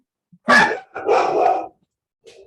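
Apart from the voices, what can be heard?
dog barking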